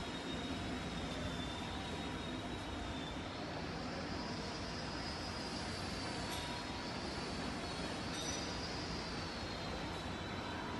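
The motor of a C/Z interchange roll forming machine running steadily, a continuous dense mechanical hum and whine with a faint high tone, unbroken and even throughout.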